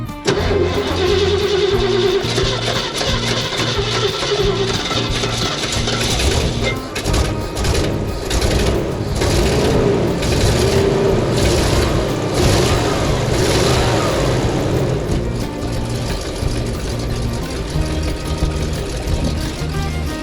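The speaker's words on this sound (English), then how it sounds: "you pour a little bit of gas down inside the carburetor to give it some fuel right away, and it aids in starting it" A carbureted car engine cranks and catches after a little gas is poured into the carburetor, then revs loudly and runs rough and steady close by, with no talking.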